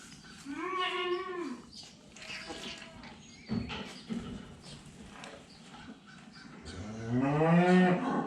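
Cattle on a farm moo loudly in two long, drawn-out calls, one near the start and a stronger one at the end, with quieter farmyard shuffling and knocks between them.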